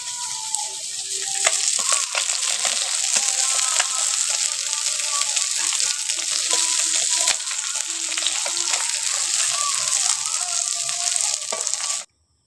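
Fish sizzle steadily in hot oil in a pan in a village kitchen, a dense, even crackle that holds for about twelve seconds and then cuts off.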